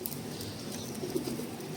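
Pigeons coo softly and continuously at close range in an evening outdoor spot, a low murmuring layer with a faint breathy texture and no voices over it.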